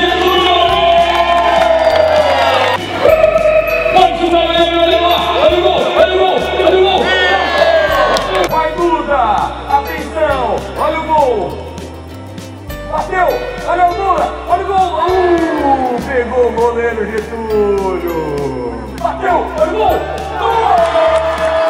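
A crowd of supporters cheers and whoops at a football match, loud and sustained, with shouts and children's voices rising and falling across the stands while people talk over it.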